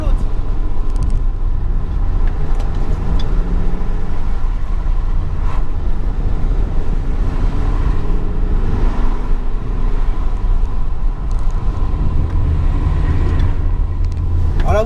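A 2020 Mercedes C-Class drives on the road, its engine a steady low rumble with road and wind noise throughout, while someone talks over it from inside the car.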